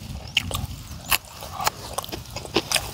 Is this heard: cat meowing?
no